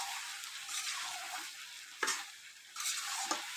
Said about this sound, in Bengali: মাংস রান্না হচ্ছে